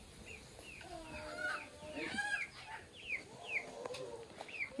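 A chicken left near a rural home clucks faintly, with scattered bird chirps and calls repeating over a quiet background.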